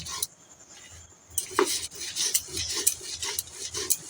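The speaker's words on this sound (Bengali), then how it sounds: "এবারে এই সিলেতে বাড়ছি শুকনোই বাড়তে হবে" A stone pestle scrapes and grinds dry ingredients on a flat grinding stone for an adharmoni bharta, producing rhythmic gritty rubbing strokes, close and moderately loud with no voices.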